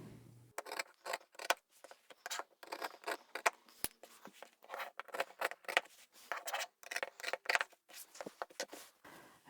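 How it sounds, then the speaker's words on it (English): Scissors cut through several layers of upholstery fabric in quick, close, crisp snips with short pauses between strokes. "you can cut through all the layers together"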